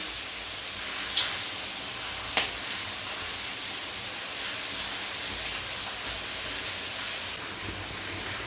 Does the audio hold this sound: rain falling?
yes